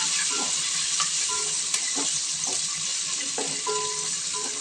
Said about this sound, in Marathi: कढीपत्ता चांगला परतून घ्यायचा